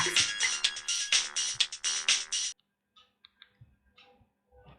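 A bright electronic phone ringtone from a Motorola Razr 40 flip phone plays a rapid melodic pattern for a couple of seconds, then cuts off, leaving a few faint clicks.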